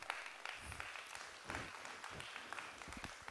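Conference audience applauding as a general manager is called to the stage at a tourism event, faint scattered clapping with a few sharper claps, fairly distant.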